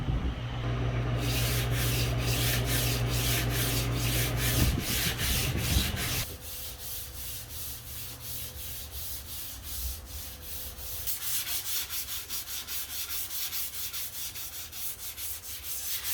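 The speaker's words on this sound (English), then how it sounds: "I'm gonna do a very light sand and then put my second coat." Light sanding of a custom wooden desk between clear finish coats, with a steady rhythmic rubbing scrape that runs for several seconds, stops abruptly, then resumes more softly.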